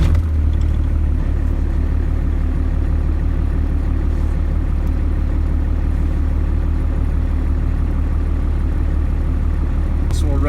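A first-generation Cummins diesel idles steadily, its low rumbling drone and light mechanical clatter holding an even, loud, unbroken pace close by.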